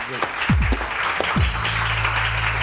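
Studio audience applause on a Pakistani morning television show, moderate and brief clapping with a voice heard near the start.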